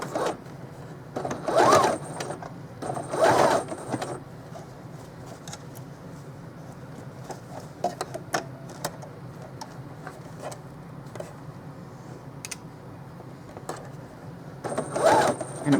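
A home sewing machine stitches Dollar Tree placemats into a Christmas stocking along a quarter-inch seam, running in three short bursts near the start and end with quieter handling clicks between.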